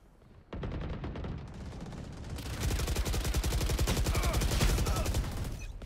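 Sustained rapid automatic gunfire in the video game Valorant, a dense, loud burst of shots that keeps going after an abrupt start, with no talking.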